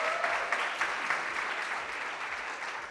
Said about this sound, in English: I think we can clap for them.